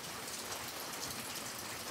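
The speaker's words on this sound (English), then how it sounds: "now it's raining" Steady rain hisses in a dense, even wash of drops on a freezing day, fairly faint, with no voices.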